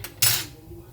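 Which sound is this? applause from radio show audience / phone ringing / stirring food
stirring food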